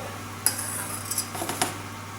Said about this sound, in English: just take that foam from the top